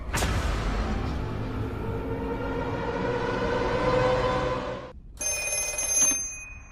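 A telephone rings: a loud, sustained ringing tone rises and holds, stops abruptly, then a brighter, higher electronic ring begins after a brief silence.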